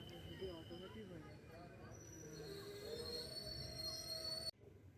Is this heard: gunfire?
no